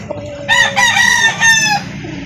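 A young rooster crows loudly and close by at a chicken market, one drawn-out call with a few rising and falling segments, and there is low background noise underneath.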